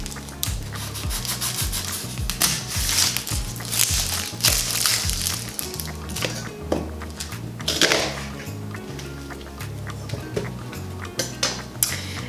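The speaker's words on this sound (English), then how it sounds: "Now we're gonna cut our onion." Knife chopping an onion on a cutting board for a spicy salsa, with rapid rhythmic chopping taps and scraping close up, steady and moderately loud throughout with no talking.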